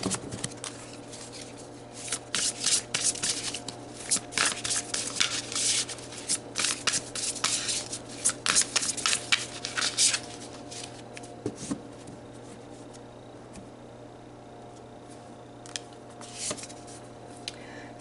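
Tarot cards are shuffled and pulled by hand, with rapid papery riffling and flicking in close, clustered bursts during the first half, then softer, sparser card handling.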